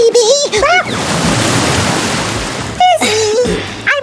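Broad rush of an ocean wave splashing over a beach, loud and close, filling the middle of the moment between two bursts of high, excited speech.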